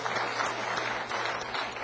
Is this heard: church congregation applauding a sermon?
yes